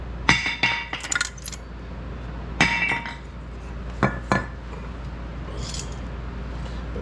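Metal brake pad clips being handled on a car brake bracket, giving several sharp, light metallic clinks in short bursts separated by quieter gaps, close by with no talking.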